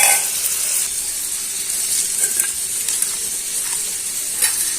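Onions fry in a pan, giving a loud, continuous sizzle with a bright hiss and a few brief crackles and stirring sounds, heard alone with no voices.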